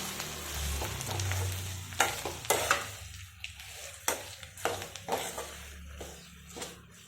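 A spoon stirs cabbage chutney in a pan, scraping and clinking in a run of distinct strokes over a low hum of cooking, with no voices.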